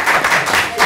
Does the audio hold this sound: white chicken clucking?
no